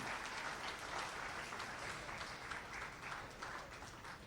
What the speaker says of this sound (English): let's give these athletes a great big round of applause